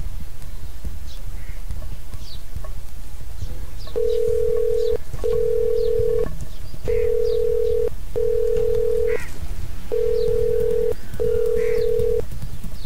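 Unanswered phone call ringing back in repeated steady tones, six evenly spaced rings, each about a second long, over faint background noise with no talk.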